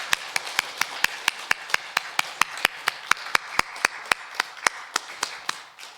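A church congregation at a Sunday service claps in a steady, even rhythm of sharp, distinct beats, about four per second, continuing throughout.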